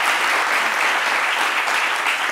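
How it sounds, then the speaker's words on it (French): Loud, dense applause from a French television studio audience on a midday talk show, continuous and close for the whole stretch with no talk over it. "On applaudit très fort"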